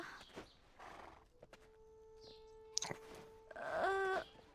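A horse in the online game Black Desert Online snorts and gives a clear, rising whinny near the end, among scattered hoof clip-clops and interface tones, heard alone without talk.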